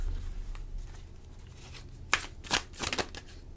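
Tarot cards riffle and slide in a few quick, crisp bursts near the end of a quiet stretch, with soft handling noise before them and no talking.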